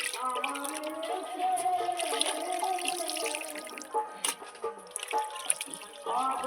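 Tap water runs and splashes over raw desi chicken pieces during washing, a steady trickle with intermittent drips and clinks of the pieces handled in a bowl.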